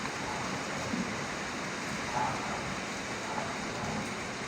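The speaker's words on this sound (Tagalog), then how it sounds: "Yan, lumakas na naman ang ulan." Steady heavy rain pours down during flooding in Navotas, a dense continuous hiss with faint low rumbles that may be distant thunder, and no voices.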